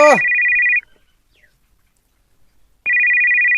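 A telephone ringtone sounds loud and close in two electronic bursts, the first just after a short rising chirp, then a pause of about two seconds before it starts again.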